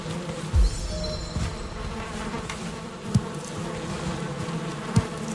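Bees buzz in the video game Valheim, a continuous close drone with a few soft thuds and clicks breaking through, no speech.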